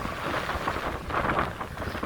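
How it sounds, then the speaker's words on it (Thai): Strong wind gusting on St John's Island, Singapore, a steady broadband roar buffeting the microphone near the shore, with a louder surge in the middle and no voices. "ตอนนี้นะครับดูเหมือนลมค่อนข้างจะแรงเลยนะครับ"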